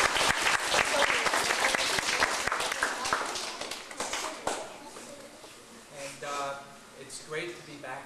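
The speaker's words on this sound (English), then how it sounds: "give yourself a round of applause" Students at an outdoor school event in rainy, sloppy weather break into loud crowd applause, dense clapping that fades over several seconds as voices rise toward the end.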